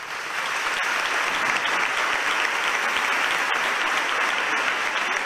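Sustained audience applause swells in and holds steady, a thick dense wash of many hands clapping with no voices standing out, following an announcement about the canonical coronation of Nuestra Señora del Rocío.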